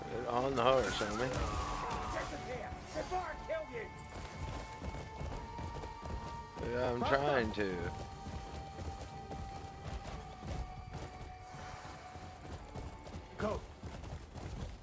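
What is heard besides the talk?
horse galloping hooves in video game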